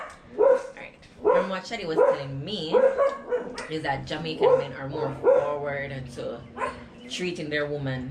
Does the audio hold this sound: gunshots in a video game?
no